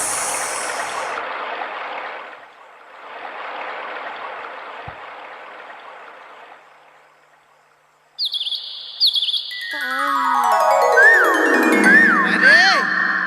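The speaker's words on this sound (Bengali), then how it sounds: "ভোরের পাখি ডাকছে শুনতে পাচ্ছিস" Birds calling at dawn: after soft hissy stretches, bright chirps and whistles rise near the end over layered tonal sounds, moderately loud and close.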